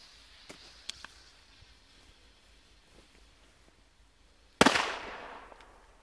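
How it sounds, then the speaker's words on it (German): Quiet ambience with a few faint ticks, then one sharp, loud bang from a Panda China-Böller D firecracker that rings out and decays over about a second. "So, jetzt kommen die China-Böller D von Panda."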